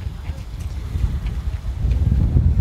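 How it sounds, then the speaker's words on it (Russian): Wind buffets the microphone on a mountain in the Harz, Germany, in low, gusty rumbles that swell and ease, growing stronger toward the end, with light drizzle. "Ветрено и дождливо, еще моросит немножко"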